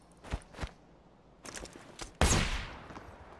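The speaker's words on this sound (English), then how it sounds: "That was a flashbang." In a shooter video game, a few muffled thuds and footsteps lead to a sudden loud flashbang grenade blast that rings out and slowly fades.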